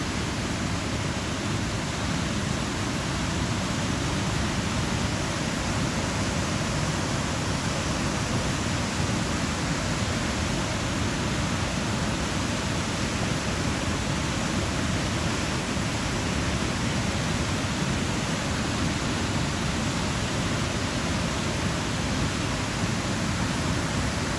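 A mountain waterfall near Sauda, Norway rushes in a constant, broadband roar, steady and enveloping with no pauses, fairly distant and unbroken by voices.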